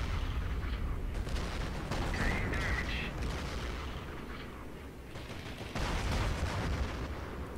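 Gunfire in the Company of Heroes video game, aimed at a German Flakpanzer: dense, continuous bursts of shots and battle noise run throughout, loud and close, with a brief higher tone partway through.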